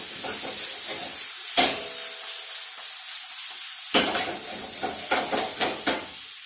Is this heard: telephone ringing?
no